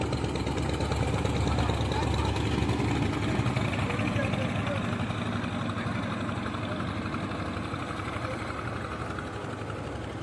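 A fishing trawler's engine runs steadily on a river, a continuous low droning hum that stays fairly loud and even throughout, with a voice talking over it.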